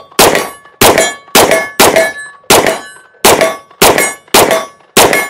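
Ten sharp pistol shots from a Sig P320 in a Flux Raider X chassis strike steel targets at about 45 yards. Each crack is followed by a bright ringing clang, in a steady, loud rhythm with no talking.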